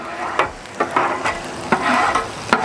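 Hibachi food with a ginger, garlic and honey juice sizzling on a Blackstone griddle. A close, steady hiss is broken by several sharp scraping taps from a spatula.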